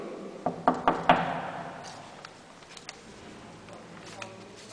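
Knocking on a closed door in an office building: a quick series of four sharp raps in the first second, then quiet room tone with a few faint taps, with people talking nearby.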